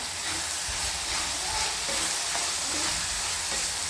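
Tomato and spring onion sauté in hot oil with a loud, continuous crackling sizzle, broken by scraping stirs of a spoon against the pan.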